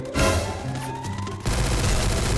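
MP40 submachine gun with a Justin Bieber skin fires in a video game, a loud close rapid burst of automatic shots that continues to the end.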